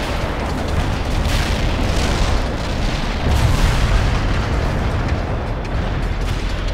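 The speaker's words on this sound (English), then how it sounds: "Zulu 9 are firing mortars at the target coordinates" Mortar fire and explosions in the real-time strategy game World in Conflict: a dense, continuous rumble of booms and blasts, loud and sustained throughout with no talk.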